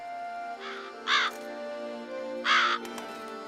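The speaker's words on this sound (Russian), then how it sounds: "Вороны не к добру тут сидят." Crows caw three times in The Witcher 3: Blood and Wine, two calls close together then a third after a pause, loud and near over a low game ambience at a beast's lair entrance.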